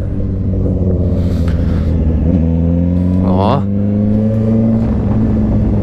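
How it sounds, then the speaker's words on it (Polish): A Suzuki GSX-R engine with a loose, rattling exhaust spring idles loudly nearby, then gives one quick rev that climbs sharply and drops back to a rumbling idle. "Jak odpalę moto, to mega hałasuje."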